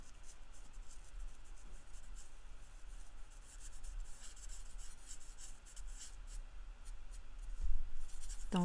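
Coloured pencil rubbing back and forth on paper while blending light and dark shades, a steady close scratchy rasp running continuously without talk.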